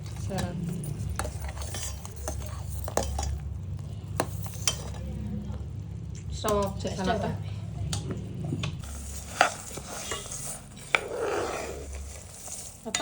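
Dry fruits frying in a pan while a spoon stirs and scrapes them, giving a steady soft sizzle with scattered metallic clinks; a person talks over it throughout.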